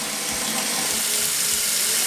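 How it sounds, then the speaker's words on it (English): Warm water runs steadily from a tap into a sink, a continuous close hiss and splash with no voices. "So if you turn on the water, you want it to be warm enough for a baby's bath."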